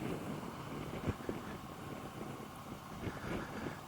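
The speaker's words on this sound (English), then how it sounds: "Maybe our riding is a little less aggressive than normal just because the wind is blowing us around." Steady wind roars and buffets against the microphone during a motorcycle ride on a gusty day, a continuous broad rush with occasional thumps, no voices.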